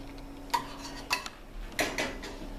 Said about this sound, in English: now I'm just going to stir it